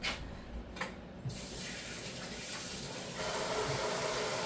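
Water runs from a kitchen tap as hands are washed, a steady close-up rush that starts after a couple of soft knocks and continues alone, growing slightly fuller toward the end.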